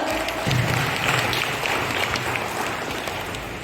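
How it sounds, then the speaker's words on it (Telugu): Audience at an award ceremony applauding a recipient, a dense continuous wash of clapping from many hands that stays steady and fairly loud throughout. "Great applause for him. Please గట్టిగా చప్పట్లతో."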